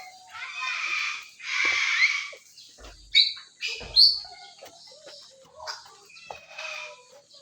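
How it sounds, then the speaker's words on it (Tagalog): Several birds, mostly white cockatoos at a safari park, chirp and tweet in quick bursts, with sharp shrill calls standing out over a busy chorus; a voice briefly murmurs in the background. "Dami ibon."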